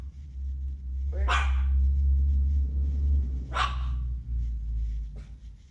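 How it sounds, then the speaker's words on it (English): A dog barks at a wall indoors, two sharp barks a couple of seconds apart followed by a fainter yip, over a steady low room hum. "staring at the wall and barking for no apparent reason"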